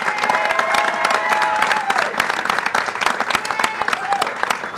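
A crowd at a Sacramento gathering about the Kings bursts into continuous applause, a thick patter of many hands with a few cheers mixed in, steady and close throughout.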